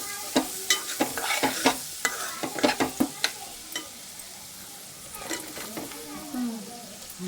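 Punugulu fritters go into a hot pan and fry with a soft sizzle, while a spoon clacks and scrapes in a fast uneven run of stirring strikes that then eases off.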